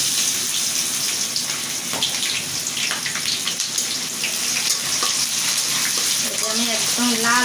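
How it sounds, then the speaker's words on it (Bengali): Onions frying in a pan for a Bengali chicken curry give a steady, loud sizzle that runs throughout, with a few faint clinks near the end. "করে ভেজে নেব ভেজে তারপরে মাংসটা দেবো আমার পেঁয়াজ লাল লাল বাঁধিয়ে ভেজে"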